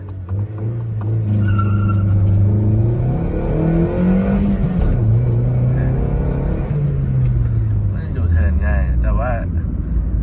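A Toyota Yaris 1.2 fitted with a manual 1NZ engine revs hard and loud up close on a wet road, the pitch climbing and then dropping away as it pulls off, while someone talks over it.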